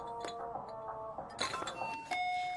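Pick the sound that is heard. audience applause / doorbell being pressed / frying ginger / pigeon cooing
doorbell being pressed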